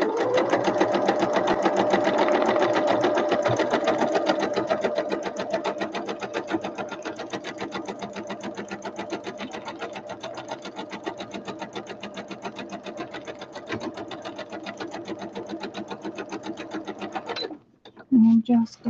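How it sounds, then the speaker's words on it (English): A domestic sewing machine stitches down the long edge of a fabric runner with a fast, even mechanical chatter, loud at first and then slightly softer, before it stops and a few handling clicks follow. "I'm sewing down the big long edge now"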